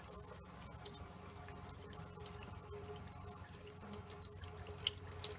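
A tap runs steadily while a makeup brush is rinsed under it. The trickle and splash are quiet and continuous, with small drips and clicks close by and no voices.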